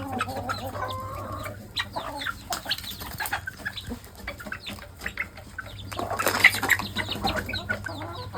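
Country hens cluck softly in short, irregular bursts while feeding, with occasional wing flutters and faint rustling nearby.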